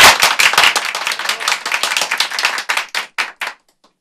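An audience claps at a Turkish gathering, starting as a loud burst of applause that thins into scattered, sparse claps and dies out to silence.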